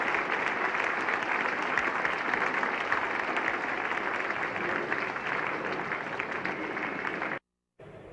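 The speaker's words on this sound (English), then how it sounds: "Applause for Gary Sobers' half-century." A cricket crowd applauds steadily for Gary Sobers reaching his half-century in a West Indies match, a broad, distant wash of clapping that holds for about seven seconds before a brief cut.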